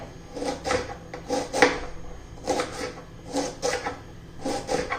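A knife finely chops abhay bean pods on a board, making repeated quick bursts of crisp cutting strokes grouped in short rhythmic runs, close and clear with no talking.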